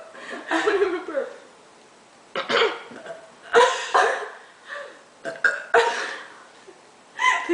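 A series of loud, close burps from friends in a burping contest, about eight irregular belches of varying length and pitch, some deep and drawn out, others short and abrupt, separated by brief pauses.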